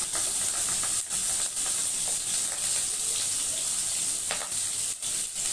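Butter and oil sizzling in a non-stick kadai, a continuous bright hiss with occasional crackles and brief dips, fairly loud and close with no talk over it.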